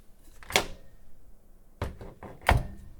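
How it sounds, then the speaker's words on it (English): A kitchen microwave door opens and shuts: a sharp latch click, a pause, then a thunk and a louder closing clunk. The sounds are close and distinct against a quiet room. "That's the microwave opening and closing."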